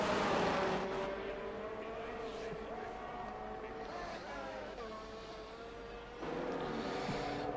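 Race car in a racing video game at Las Vegas, engine held at high revs with brake and throttle together to warm new tyres, a sustained wavering whine that rises and dips, with commentary over it.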